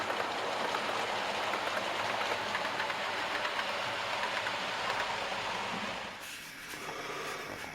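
A model train on a 00-gauge layout rumbles and hisses steadily, growing closer with a continuous rushing clatter, then briefly shifts in tone near the end.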